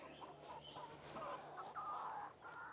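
Pasture-raised chickens clucking and calling close by in an open field, a steady chorus of overlapping hen clucks with brief higher squawks.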